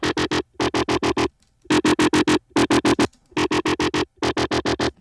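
A grimy bass synth runs through diode distortion and a slow phaser, chopped into tight rhythmic bursts of rapid repeated notes separated by short silences. It is loud, close and heard alone.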